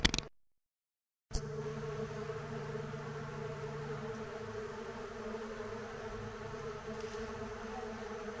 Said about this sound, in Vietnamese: À, có thể là ong trong này. Tiếng vo ve rất là rõ,